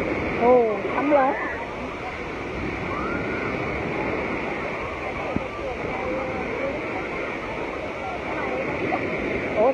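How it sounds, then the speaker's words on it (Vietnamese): Big ocean waves roll onto a crowded beach in central Vietnam, a continuous loud wash of surf with voices talking over it near the start. "Ồ, sóng lớn."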